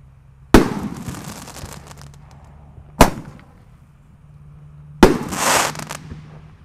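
A jumbo roman candle firework of size 1.8 on Lebaran night fires three loud, sharp bangs, each with a short crackling, hissing tail, spaced a couple of seconds apart.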